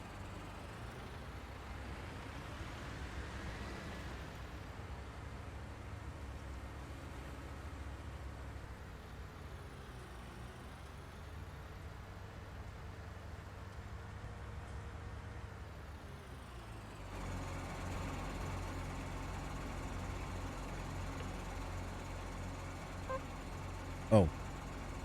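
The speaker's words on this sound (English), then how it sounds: "That 4020. That's the wrong sound file for that tractor." A John Deere 4020 tractor idles in Farming Simulator 19, fitted with a mismatched engine sound, giving a faint low steady drone with slight pitch shifts, heard under occasional talk.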